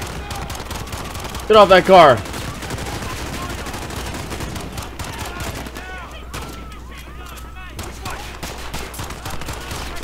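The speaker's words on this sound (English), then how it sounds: "I got automatic gunfire somewhere." A brief burst of rapid automatic gunfire in a Modern Warfare campaign video game erupts early on, then fades into a steady background as someone shouts briefly over it.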